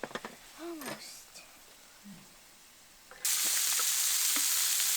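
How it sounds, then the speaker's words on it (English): French fries fry in a pan at a campsite on a cliff, the steady loud sizzle starting abruptly after a stretch of quiet clatter and a brief bird-like chirp. "Almost done with the fries."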